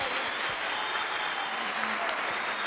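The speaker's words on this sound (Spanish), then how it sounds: "vamos a darle un aplauso a Jesús y a María fuerte. Y ese aplauso por la vida, fuerte." Audience at a Christian pro-life congress applauds together, a dense, sustained clapping at moderate distance with no break.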